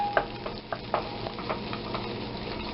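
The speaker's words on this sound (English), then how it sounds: "Now we take 4 tablespoons of butter, and we get that nice and foamy." Four tablespoons of butter melt and foam in a pan, a soft, steady sizzle with a few sharper spits and clinks near the start, heard close and without speech.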